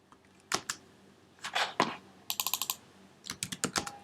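Keystrokes on a computer keyboard as a material name is typed into Cricut cutting software, arriving in short bursts: a few isolated taps, a brief cluster, then a quick run of clicks and another burst, close and moderately loud, with no talking.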